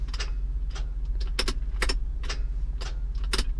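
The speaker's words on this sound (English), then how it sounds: "Sounds like a solenoid for the starter motor is engaging, but the starter motor isn't" A car starter solenoid clicks repeatedly while the starter motor fails to turn over, sharp irregular clicks over a steady low hum, with no cranking.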